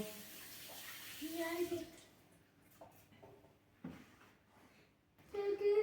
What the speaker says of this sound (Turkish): Ellerimi de güzel yıkıyorum.